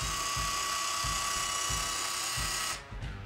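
Boat trim tabs retracting as the system shuts down, a steady electric motor whine with a faint rhythmic mechanical pulse that cuts out near the end.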